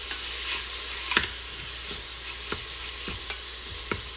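Fideo noodles browning in a pot, stirred with a utensil: a soft steady sizzle with several distinct scraping strokes against the pot bottom, close and unaccompanied by talk.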